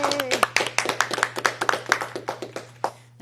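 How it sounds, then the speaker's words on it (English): A small group gives a short round of applause at the close of an online talk, brisk irregular claps close to the microphone that thin out toward the end, with a voice briefly at the start. "A round of applause for Tony."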